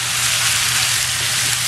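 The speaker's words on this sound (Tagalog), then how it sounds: "ayan, mag-light fry na itong ating chicken and pork." Chicken and pork pieces lightly frying in a pan for adobo, a steady, close, continuous sizzle with no talking.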